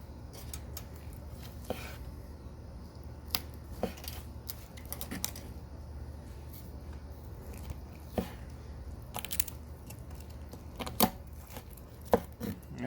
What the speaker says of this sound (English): I'm just going to do thin slices down the side of it